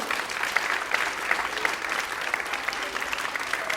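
Enthusiastic audience applause for a child actor at a primary school class play, dense and lively clapping throughout with a few sharper individual claps standing out.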